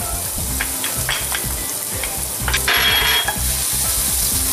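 Garlic sizzling in a hot pan, a continuous crackling fry with bursts of louder spattering and some clinking of a utensil, close and without talk.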